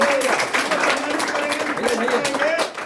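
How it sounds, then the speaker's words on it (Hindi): Hands clap for a topper at an honour ceremony, a steady patter of applause from a gathered crowd, with a voice speaking over it. "धन्यवाद के लिए बनती है जोरदार ताली"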